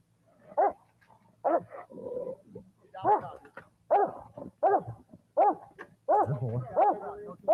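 Police dog barks repeatedly and aggressively, a steady run of loud, close barks roughly every second, with low growling and whimpering between them and people talking underneath.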